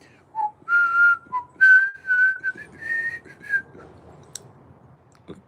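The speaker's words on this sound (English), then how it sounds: "I'm in a whistling mood today." A person whistles a wandering tune in short, clear phrases near the listener, with quiet room noise and a faint click near the end.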